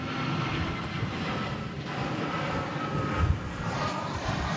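A Boeing 787-9 Dreamliner taxiing to the gate at DFW Airport hums with a steady, moderately loud engine drone and low rumble, even throughout and without voices.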